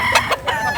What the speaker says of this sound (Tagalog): Maraming manok dito sa Bulacan,